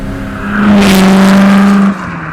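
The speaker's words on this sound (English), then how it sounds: "It revs up and down very quickly" Superformance Ford GT40 MKII engine with a very light flywheel, heard close and loud as it blips up sharply, holds a strong steady roar for over a second, then drops quickly back to idle.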